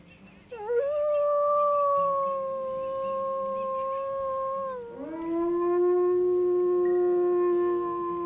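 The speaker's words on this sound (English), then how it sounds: "Because they all just howl at once, and it is glorious." A pack of wolves in the WolfQuest video game howls together, long sustained tones that rise, hold and then dip and swell again, several voices layered loud and close, with no talking.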